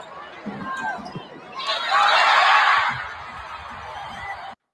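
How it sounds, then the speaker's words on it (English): A basketball arena crowd in Indianapolis swells into a brief roar of cheering for Caitlin Clark's tenth rebound during a Fever game against the Liberty, rising over a second then easing back, with voices talking before and after. "you can hear the crowd acknowledge it, which was really cool, as soon as Clark snagged that 10th rebound"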